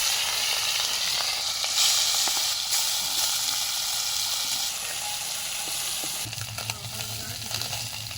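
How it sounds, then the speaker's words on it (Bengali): Small puti fish frying in hot oil: a steady, close crackling sizzle that lasts throughout, with faint scraping and stirring clicks and no voices. "এবার মাছগুলোকে এর মধ্যে দিয়ে দিচ্ছি তেলের মধ্যে তেল গরম হয়ে গেছে"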